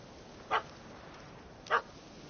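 A dog in The Witcher 3 video game gives two short, separate barks about a second apart, faint and somewhat distant over a quiet background hiss.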